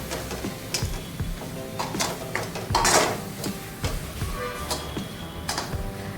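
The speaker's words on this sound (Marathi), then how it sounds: "आता ह्याच्यात आपण बेसन घालूया आणि ते भाजून घेऊया" Gram flour roasting in two spoons of oil in a kadai for stuffed capsicum, heard as steady scraping and clinking of a spatula against the pan with a soft sizzle underneath, close and moderately loud, with no talking.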